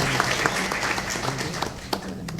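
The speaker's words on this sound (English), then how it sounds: "I just want to tell you why we've just applauded them" Applause from the audience at a school board meeting, honoring the Lenoka Harbor PTO. Dense, steady clapping fills the room at moderate volume, with a few sharper individual claps standing out near the end.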